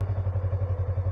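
A motorcycle engine in first gear bogs as the clutch is let out, a low, throbbing pulse rumbling steadily and close by for about a second with no voices.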